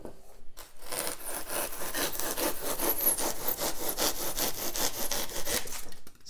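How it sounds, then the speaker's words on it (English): A thin-bladed Japanese saw cuts through foam in quick, even back-and-forth strokes, a close, raspy rhythmic sawing heard alone after a brief pause at the start. "This is a Japanese saw, nice thin blade, great for cutting foam, great for cutting wood."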